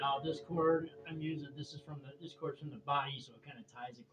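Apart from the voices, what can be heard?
None of the usual background noises is heard.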